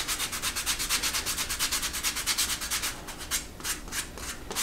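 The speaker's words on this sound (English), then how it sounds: "So I will take my rough grit sandpaper" Rough grit sandpaper is rubbed back and forth along the edges of a three-pocket leather card holder, a fast, even run of close, raspy strokes that grows looser and more irregular toward the end.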